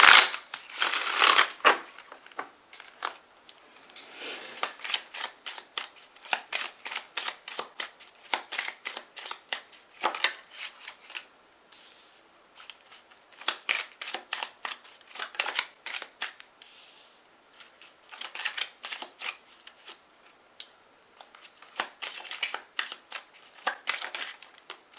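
Tarot cards shuffled by hand, a long close sequence of crisp riffling snaps and papery flutters in uneven bursts with short pauses between, clear and alone without talk.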